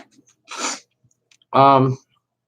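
A sharp sneeze-like burst, followed a moment later by a louder, voiced blast, with near silence around them.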